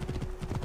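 Horse hooves gallop in Assassin's Creed Origins, a steady rapid clip-clop close by with faint talk underneath.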